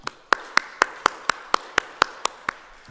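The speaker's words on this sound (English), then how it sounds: "Please join me in giving them a round of applause." Clapping for forum session panelists: crisp, regularly spaced claps, about eleven in three seconds, close and clear with no speech.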